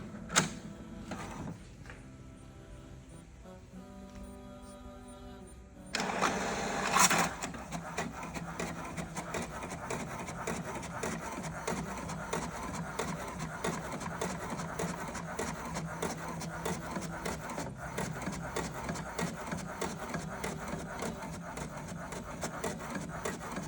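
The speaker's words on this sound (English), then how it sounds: "Let's try to print this welcome document." An HP DeskJet 4828 inkjet printer whirs and clicks briefly, then runs with a steady, rhythmic mechanical rasp as the page feeds through, fairly quiet and close.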